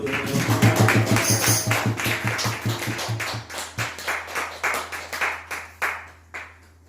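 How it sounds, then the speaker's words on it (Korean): A congregation claps and applauds at a Korean prayer house gathering, with quick rhythmic hand claps at first that loosen into scattered, fading claps, heard close over a lingering low musical drone. "아멘. 주님께 박수."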